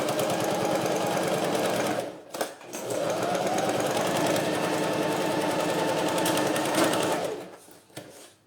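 A sewing machine stitches the bottom seam of a synthetic fabric toiletry bag, running in a fast steady mechanical whir with a short pause partway through and trailing off at the end.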